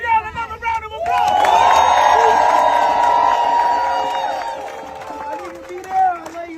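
An audience applauds and cheers loudly for several seconds, the crowd noise swelling quickly and holding before fading, with musical tones and voices mixed in underneath.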